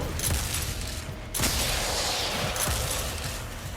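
Revolver gunfire in the video game Destiny 2, a few heavy booming shots spaced out over a dense noisy battle backdrop.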